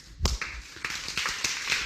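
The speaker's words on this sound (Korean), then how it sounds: "박수로 환영을" Church congregation clapping in welcome, scattered hand claps that start with one sharp clap and then build into a loose, uneven patter.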